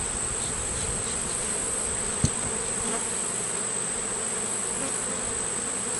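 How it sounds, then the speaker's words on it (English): Honeybees in a hive brood box, a dense, steady buzzing hum close by that holds without a break, with one brief sharp tap partway through. "A lot of bees, extremely busy."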